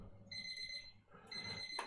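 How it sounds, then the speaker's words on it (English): A kitchen timer set to check a pot of jam beeps in a high, steady electronic alarm, rings for about a second, pauses briefly and then starts again, close by and clear with no talking. "check the jam that's not burning timer going off"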